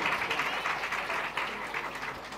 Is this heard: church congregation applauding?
yes